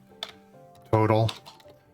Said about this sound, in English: I'm terrible at typing and talking at the same time